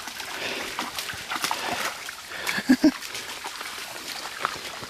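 A husky splashes in a waterfall pool, producing brief watery sloshes and a couple of short thumps over the constant rush of falling water, with a person talking at times.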